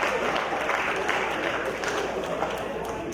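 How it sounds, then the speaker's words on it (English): An awards ceremony crowd at a Formula SAE Lincoln event applauds for a university team, dense and continuous clapping, steady and fairly loud throughout. "Let's give a nice round of applause to the University of Texas Arlington"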